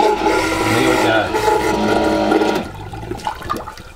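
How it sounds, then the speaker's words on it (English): A 12 volt marine toilet flushing inside a motorhome gives a loud, steady rushing water roar for over two seconds, then drops to quieter gurgling and rattling as the flush drains away. "Come up to our little switch which flushes our toilet."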